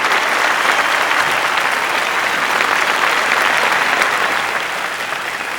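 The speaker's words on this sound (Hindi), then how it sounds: "एक बार जोरदार तालियों से उनका स्वागत करें" Loud, sustained audience applause welcoming a guest on stage at a 100-year celebration concert, a dense, continuous crowd clapping that holds steady and eases slightly at the end, with no talking over it.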